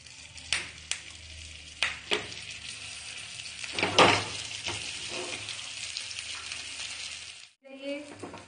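Peetha dumplings sizzling in a pan with cumin, curry leaves and chili powder, a steady frying hiss broken by metallic clinks and scraping stirs, then a brief voice near the end.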